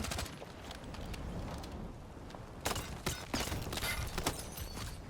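A constant rumbling wash of noise, then several sharp booming blasts burst through in quick succession, loud and close, in the video game Battlefield REDSEC.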